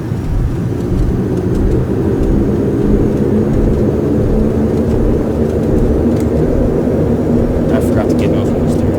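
A Q400 turboprop airliner in Flight Simulator X roaring steadily with reverse thrust after landing, a loud continuous low engine drone with no change in level throughout.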